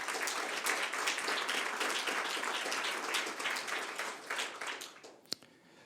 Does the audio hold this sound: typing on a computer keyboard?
no